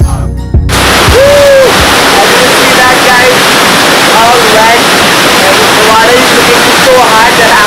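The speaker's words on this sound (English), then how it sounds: "That's the Meenmutty Waterfalls. It's flowing so fast." Meenmutty Waterfalls in Wayanad, Kerala, roar with fast-flowing water, a loud, close, continuous rush that follows a brief opening thump, with a shouting voice faintly heard through it.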